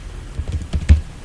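Several soft keystrokes tap on a computer keyboard in a short, uneven burst, close and fairly quiet, with no talking.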